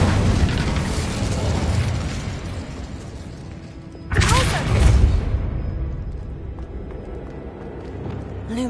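Fiery spell blast from a Harry Potter-style video game, bursting loud and sudden midway through a steady background rumble, then decaying into a lingering crackle.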